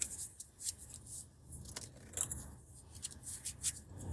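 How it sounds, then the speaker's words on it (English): Cards are shuffled close by with soft riffling and light flutters. The sound is quiet and comes in several short bursts over a faint hiss. "Let me shuffle one more time."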